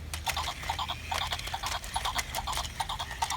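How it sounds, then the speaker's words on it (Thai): A zebra walks among cows, buffalo, elephants and horses in a flower garden, with a steady rhythm of horse-like hoof clip-clops and snorting, squealing animal calls that continue throughout. "ต่อไปนี่ ซีบรา ม้าลาย"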